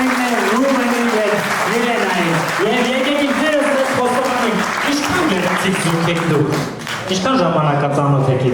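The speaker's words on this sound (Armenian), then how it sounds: "Եկեք բարձր ծափահարություններով դիմավորենք" Applause at an engagement party in Dilijan, Armenia, a steady crowd clapping that continues for several seconds, mixed with music and voices.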